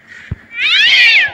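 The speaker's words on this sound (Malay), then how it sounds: "Mana? Kucing ni." A cat gives one drawn-out meow, loud and close, in an old abandoned house, preceded by a couple of faint thumps.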